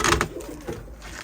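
Pigeon gives a short, soft burst of cooing close by, a couple of low throaty notes over a quiet background.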